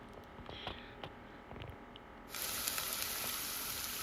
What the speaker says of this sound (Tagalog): ginigisa ko na yung bawang, sibuyas, and ginger